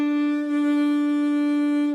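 A saxophone played with a flat, straight-across embouchure that compresses the reed gives a single steady, pinched note, held evenly for about two seconds with no talking.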